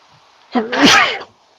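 A single loud, close sneeze with a sharp intake and explosive burst, lasting under a second, against near silence.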